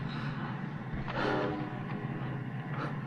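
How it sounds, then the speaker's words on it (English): A recorded train rumbles past, played through large speakers over a steady low hum, with a brief brighter swell of noise in the middle; no talking. "You can hear a train and some wolf howls coming out of these bigger speakers here"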